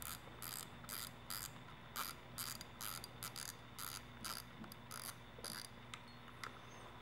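Shimano Stradic spinning reel being reassembled as its handle is screwed back in, giving a steady run of quiet, close ratcheting clicks in uneven bursts with no talk.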